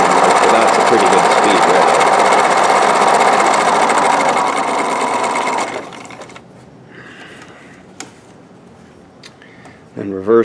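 A Husqvarna Viking 950 sewing machine runs flat out for several seconds with a loud, steady mechanical whir, then stops, leaving quieter handling clicks and a brief scrape near the end.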